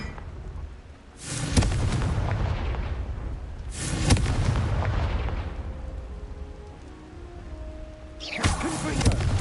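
Three booming fire-spell blasts from the Confringo spell in a magic video game, each a loud broadband burst that decays slowly, spaced a few seconds apart, with the last one cut short.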